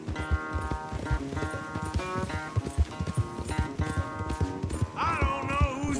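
A horse gallops at a fast, rhythmic pace in Red Dead Redemption 2, its hoofbeats loud and close under a melodic game score.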